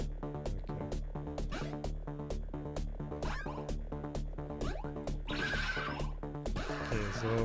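A horse in Cyberpunk 2077 whinnies again and again over a busy, tonal game soundtrack. The calls come in quick repeated bursts at a steady level, with no talking.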